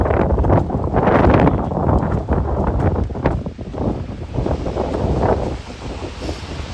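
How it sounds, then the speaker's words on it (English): Strong wind near a bridge buffets the microphone with loud, continuous low roaring gusts that swell and ease without break, and no voices. "I am literally just fighting the wind with all force that I have right now."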